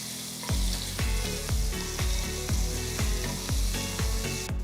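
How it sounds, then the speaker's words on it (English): Ginger garlic paste with whole spices such as cardamom, bay leaf and cumin seeds frying in a pan over a low flame: a steady close sizzle with repeated clacks from stirring at a regular rhythm, no voices. "Add 1 whole teaspoon of ginger garlic paste."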